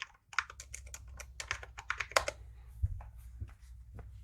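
Rapid, uneven keystrokes on a computer keyboard as a product search is entered for an online purchase, a dense burst of clicks followed by a few sparser taps, close and fairly quiet with no talking.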